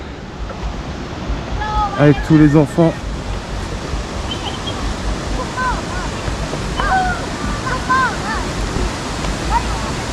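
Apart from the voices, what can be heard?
small waterfall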